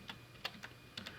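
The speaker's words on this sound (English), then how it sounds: "we're going to type in that address" An IP address being keyed in on a computer keyboard: a handful of quick, light key clicks in an irregular rhythm, close and fairly quiet, with no talk.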